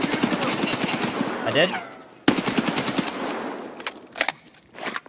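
Rapid automatic gunfire in the video game Escape from Tarkov comes in loud sustained bursts, breaks off briefly, then resumes and ends with a few separate shots. A player speaks a short phrase between the bursts.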